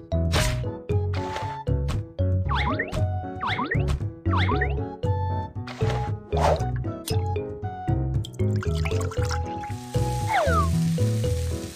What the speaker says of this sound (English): It's time to fry the ham.